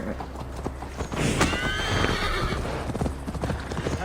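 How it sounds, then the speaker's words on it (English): Horse hooves clip-clop steadily as a mount is ridden in the video game Assassin's Creed Valhalla, with a horse neigh partway through, the hoofbeats close and continuous against game ambience. "Mount up, Eivor. It's a long ride to Tamworth"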